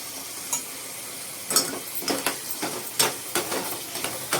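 Chicken fries in a pan as hand-pounded garam masala is stirred through it, a soft sizzle under repeated scraping strokes of a spoon, close and clear, several in quick succession.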